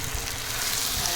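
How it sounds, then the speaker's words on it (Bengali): Chicken pieces dropped onto lightly fried onions in a pan give a steady, fairly loud broadband sizzle that holds evenly throughout, with no voices. "দেখো পেঁয়াজগুলো হালকা ভাজা ভাজা হয়ে এসছে। এবার আমি চিকেনগুলো দিয়ে দেবো এর মধ্যে।"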